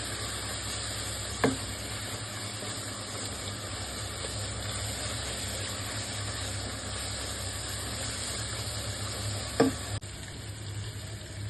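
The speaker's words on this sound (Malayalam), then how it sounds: "ഇനി നമുക്ക് ഈ ഓയിലിൽ ഇത് നല്ലവണ്ണം വഴറ്റിയെടുക്കണം." Coriander, chili and turmeric sautéing in oil for Thalassery kalumakayi rice, a steady even sizzle throughout with two brief sharp knocks of the spoon against the pan, close and without talk.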